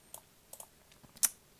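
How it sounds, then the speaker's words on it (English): A few soft, scattered keystrokes on a keyboard, with one sharper tap near the end; quiet and close, with no voices. "user law, and typing the following"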